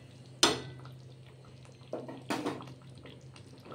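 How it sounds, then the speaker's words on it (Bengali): A lid set onto a cooking pot of spiced potato curry in a home kitchen, giving a sharp metallic clack followed by two softer knocks, close by and alone over a faint steady hum. "আবারও একটা ঢাকনা আমি দিয়ে দিলাম 2-3 মিনিট"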